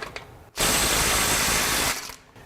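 A RIDGID mid-torque impact wrench in mode 2 breaking a bolt free with about 200 foot-pounds, one loud continuous burst of rapid hammering lasting over a second, then quiet.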